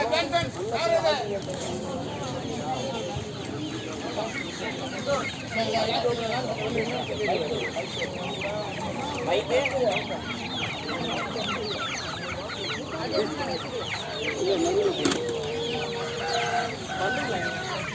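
Chickens cluck and a rooster crows amid turkeys at a busy poultry shop in Chennai. The birds keep up a dense, near chorus throughout, mixed with the chatter of people talking.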